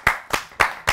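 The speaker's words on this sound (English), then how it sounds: "we have to give him a round of applause" Four separate, sharp hand claps ring out at an even, steady pace, loud and close, with no other sound.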